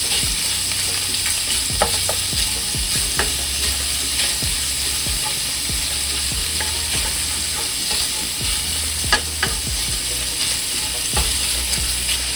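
Bacon sizzling in a pan, a continuous loud frying hiss with scattered crackles and pops, close and steady throughout with no talk.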